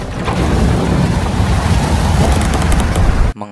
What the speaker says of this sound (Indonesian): tak lama badai itu pun datang